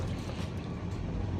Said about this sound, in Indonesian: Nyalakan keran, basahi tangan